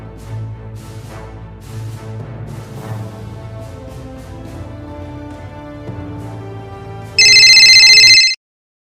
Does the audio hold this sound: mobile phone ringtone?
yes